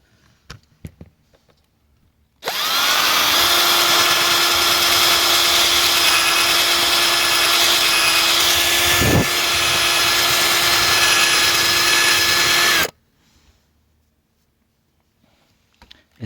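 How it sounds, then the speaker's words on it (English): A power sander with 240 grit sandpaper grinds down filler on curb rash on a Tesla wheel, a loud, steady whine running about ten seconds, starting and stopping abruptly, with a brief surge near the end. "with a 240 grit sandpaper to get rid of these top surfaces here, so that what's left is only a perfectly filled mini crater"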